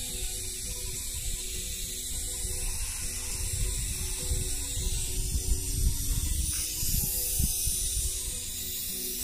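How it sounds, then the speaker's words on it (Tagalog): A garden hose sprays water directly onto potted succulents, making a steady, fairly faint hiss with a soft splashing rumble underneath, continuous and close by without talk. "Direkta na ang aking pagwa-water sa plant."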